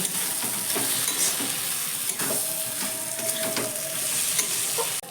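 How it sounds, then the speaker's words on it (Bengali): Potatoes sautéing with spices in a pan, a steady loud sizzle with intermittent scraping strokes of stirring, close by and no voices. "আলুটা দেওয়ার পরে এই মশলার সঙ্গে এক মিনিট মতো আমি আলুটাকে কষিয়ে নেবো"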